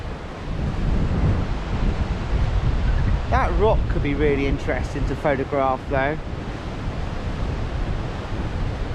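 Sea waves washing along the Eyemouth coast, a steady rushing surf buffeted by heavy wind noise on the microphone, with someone speaking briefly over it midway.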